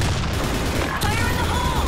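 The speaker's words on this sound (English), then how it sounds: "Fire in the hole! Grenade!" A grenade blast and gunfire in a video game: a dense, loud roar of explosion and rapid shots with voices shouting over it.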